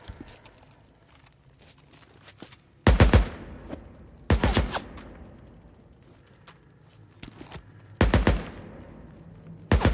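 Bursts of gunfire in the video game Days Gone Remastered, fired in three or four loud volleys several seconds apart, each with sharp reports trailing into echo, over quieter clicking between them.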